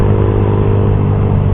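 A Suzuki GSX-R150 motorcycle engine fitted with an R9 Misano racing exhaust roars loudly and steadily at sustained revs, up close with no break in the sound.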